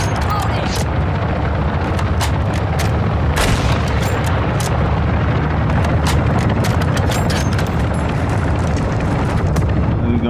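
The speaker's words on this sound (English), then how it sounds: "Oh crap, shooting." Call of Duty Modern Warfare 2 (2022) ground war battle, with loud continuous gunfire and sharp repeated shots over heavy booming rumble, mixed with a voice talking throughout.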